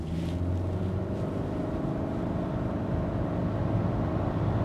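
A 2024 Honda Accord EX accelerating on an open road, heard from inside the cabin as a steady, moderately loud blend of engine hum and road roar that holds even throughout, with no talking.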